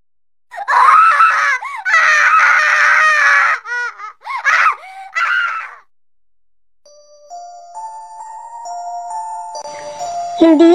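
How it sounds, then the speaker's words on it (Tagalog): Loud, high-pitched screaming in long sustained bursts, then a wavering tonal sound rising and fading after a brief silence. "isang malakas na sigaw ang aking narinig"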